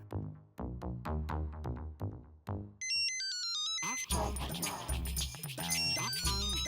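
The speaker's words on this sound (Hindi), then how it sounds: "वैजंती का फोन" A phone ringtone plays a bright, repeating melodic tune, loud and close, with the tone changing partway through and music-like layers filling in.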